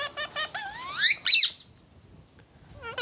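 Pet birds at a farm aviary call out with a run of clear whistled chirps, rising sweeps and harsh squawks, loud and close, then a quiet pause before one more rising call.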